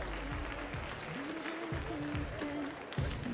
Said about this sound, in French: On peut applaudir l'équipe qui nous vient de Lyon.